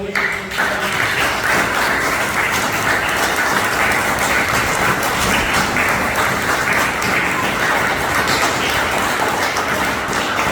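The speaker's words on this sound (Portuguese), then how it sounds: "As palmas do Rei Jesus." A church congregation applauds during a worship service, with dense, loud, sustained clapping that fills the whole stretch without a break.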